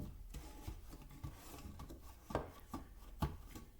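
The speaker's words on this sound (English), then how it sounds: "you're going to smash an even layer with your hand" A hand pressing cookie crumbs into a cheesecake pan: soft, close crunching and rubbing with several sharper crumbly pats, quiet and alone.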